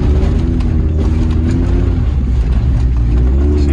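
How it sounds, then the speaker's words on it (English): A Ford 4x4 driving over rough ground, its engine droning loud and close with metallic rattling and knocking from a loose muffler bouncing underneath. "Muffler's just bouncing off that thing"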